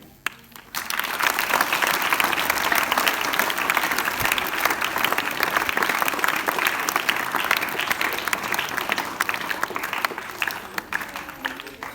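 A debate audience breaks into sustained, loud applause that starts abruptly and fills the hall with dense clapping as both teams take their places on stage, fading slightly at the end.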